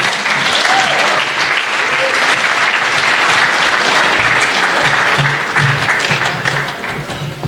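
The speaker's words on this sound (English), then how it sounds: "You can clap for them again if you want." A loud, full burst of applause from the audience at a capstone project invitational as presenters come up on stage, sustained throughout with some cheering and voices mixed in before it tapers slightly at the end.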